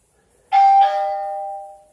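A Netvue ORB camera gives a two-tone ding-dong chime during setup, one clear bright tone followed by a second that rings out and slowly fades, heard alone in a quiet room.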